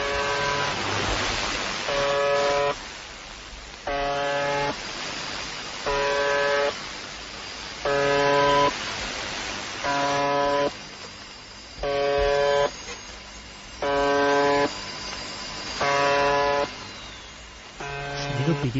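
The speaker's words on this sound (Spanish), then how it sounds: "un ciudadano con su receptor de onda corta recibiera este extraño zumbido" The UVB-76 shortwave radio station sends out a harsh buzzing tone in regular bursts about a second long, each separated by short gaps of hissing static, repeating steadily like a muffled alarm.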